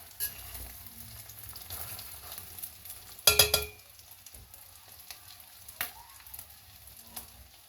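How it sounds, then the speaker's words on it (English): Quiet, steady sizzling of pork frying in 40 ml of oil, close by, broken by a few clattering knocks and stirring sounds. "frying my pork until it's golden brown on each side"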